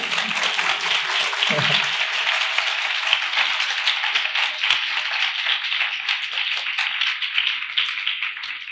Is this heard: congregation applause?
yes